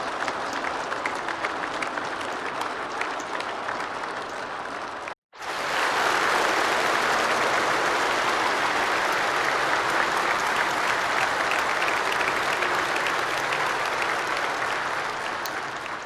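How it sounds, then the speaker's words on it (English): A long, loud round of applause from an audience, dense and steady, cutting out for a split second near the five-second mark and then resuming just as strongly. "can we just get a round of applause?"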